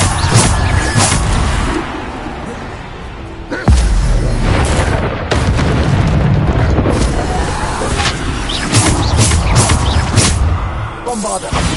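Bombarda spell explosions in the Hogwarts Legacy video game, a long series of loud booming blasts and crashes, some close together and one heavy hit standing out, amid combat noise.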